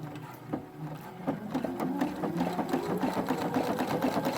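A sewing machine stitches stretchy doll leggings in a continuous close run, its rapid needle rhythm steady and fairly loud throughout the short stretch.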